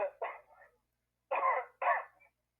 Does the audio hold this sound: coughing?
yes